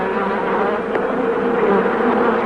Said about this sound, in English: 500 bees or so have already come out.